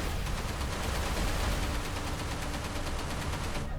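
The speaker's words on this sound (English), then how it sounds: "And I can activate my turret" Rapid automatic fire from a ship-mounted turret in the space combat game Everspace, a dense continuous stream of close, loud shots rattling for nearly four seconds with no voices.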